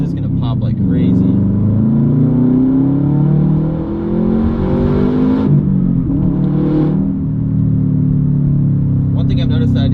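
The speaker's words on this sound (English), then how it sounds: "It does have a little bit of popping here and there with the open downpipe" A Subaru WRX STi boxer turbo engine with an open downpipe revs up and down through the gears, its loud droning note climbing and dropping close by, with a voice talking over it.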